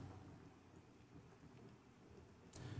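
Steady rain hiss fills the scene in the video game Pantheon, a dense continuous patter heard alone with no talk, swelling louder near the end.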